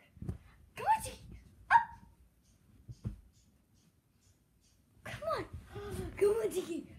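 A pet dog lets out a few short barks and whimpers in a quiet room, then a person talks and calls to it over further yips.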